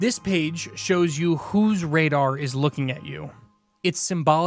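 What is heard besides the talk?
None of the usual background noises is heard.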